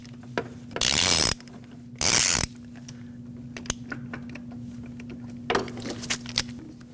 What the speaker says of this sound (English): use a 24mm socket and unthread the oil pressure switch.